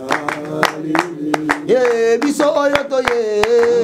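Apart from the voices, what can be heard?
audience clapping to a song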